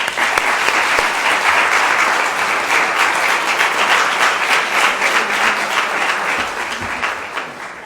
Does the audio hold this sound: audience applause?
yes